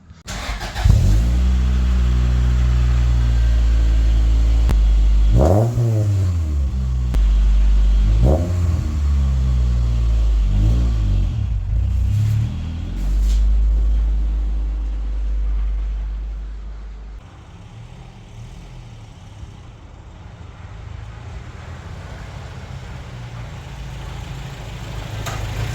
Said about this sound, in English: pull the Toyota in.